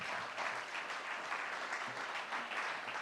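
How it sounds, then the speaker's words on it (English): A large audience at the Kofi Annan Eminent Speakers' Lecture gives a steady, sustained round of applause with a standing ovation, dense and even throughout with no break. "I am sure that you can hear the resounding applause here in the room"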